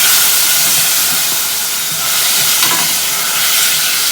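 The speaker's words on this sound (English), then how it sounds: "Now I'm going to put my tomatoes in." Tomatoes sizzling in a hot kadhai over medium-high heat, a loud, steady hiss of frying that swells slightly as they are stirred around.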